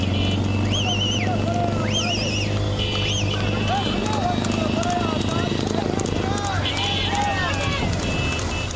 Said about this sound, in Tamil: மாட்டு வண்டி மற்றும் குதிரை வண்டி எல்கை பந்தயம் நடைபெற்றது